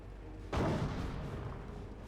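An anti-tank gun in Company of Heroes fires one deep, booming shot that rolls out over a steady background of battlefield ambience.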